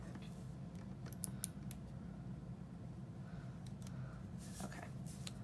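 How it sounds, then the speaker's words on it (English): Small scissors snip along the edge of a paper planner sticker, giving a few light, close cuts over steady low background hum. "These tiny scissors are my favorite tiny scissors."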